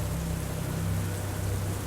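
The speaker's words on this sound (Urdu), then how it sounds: "موسلا دھار بارش کی وجہ سے باہر کچھ نظر نہیں آ رہا تھا" Torrential rain falling outside a car at night, a steady dense hiss with no breaks or voices, even and enveloping throughout.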